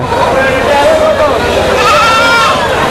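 Goats bleating at a busy livestock market, wavering calls rising over a steady crowd murmur while people talk nearby.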